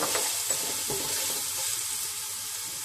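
Green chilies sizzle in a hot pan for restaurant-style vegetable biriyani, a close, steady frying hiss with a few soft stirring knocks early on and no voices.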